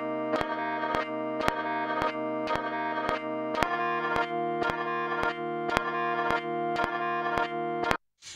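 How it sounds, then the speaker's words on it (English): Bandpass-filtered wavetable synth from Logic Pro's RetroSynth, compressed, with tremolo panning it across the mix, playing a buzzy mid-range chord in rhythmic pulsing repeats, loud and steady until it cuts off at the end. "I've created a bandpass filter version of this sound, which means that it's focusing on mid frequencies"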